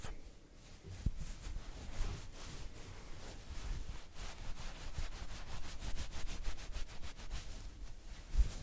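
Fingers scratch and rub over the fabric of an inexpensive H&M scarf, a close, quiet ASMR-style rasp in quick repeated strokes.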